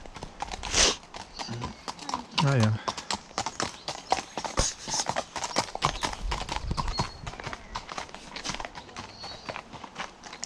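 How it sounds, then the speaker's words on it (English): A horse's hooves clip-clop along a path on Braid Hills in Edinburgh, close and steady, with a brief voice and rustling nearby. "And here comes the horse."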